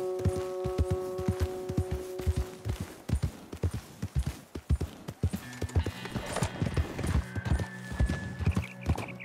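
A horse in Red Dead Redemption 2 walks with steady, evenly spaced hoof clip-clops, close and distinct over soft game ambience and occasional tonal background music.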